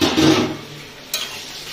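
Prawns and Malabar spinach stirred in a pan, a short burst of scraping and sizzling with a second brief scrape near the end, heard alone at close range.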